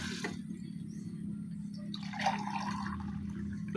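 Three glasses of water pour into a pot in a steady stream, a close, continuous splashing gurgle that rises slightly partway through.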